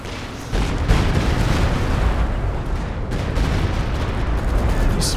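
Werfer rocket artillery barrage from the video game Company of Heroes 2, a dense continuous rumble of blasts and impacts rolling on loudly for several seconds with no pauses.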